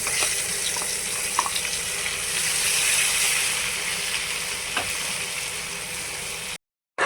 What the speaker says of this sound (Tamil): கிளறினதுக்கப்புறம் நெய்யிலே நல்லா வணக்கணும்